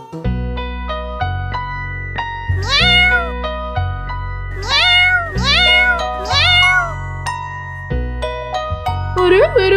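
Kittens meow repeatedly in high, wavering cries, several close together in quick overlapping bursts over a steady low background hum.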